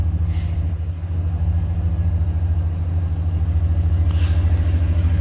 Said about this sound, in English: Sorry, I just realized that I had the truck idling